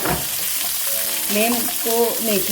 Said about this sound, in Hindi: ये देखिए हमने पाई को हल्का सा फ्राई किया है ऑयल के अंदर यखनी बनाने के लिए।